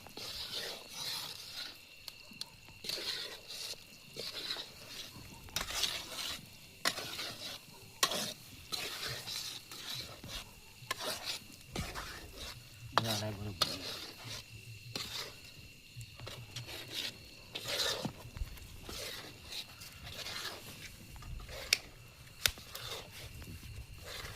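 Wheat flour roasts in ghee for sukhdi, cooked with jaggery at a farm, with a steady, continuous sizzle and scraping stir that runs throughout, punctuated by occasional louder clanks of the utensil against the pan.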